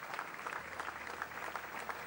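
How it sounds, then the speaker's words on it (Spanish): Mourners give sustained applause at the farewell for a provincial governor, dense continuous clapping from a crowd, fairly distant and even. "Aplauso cerrado"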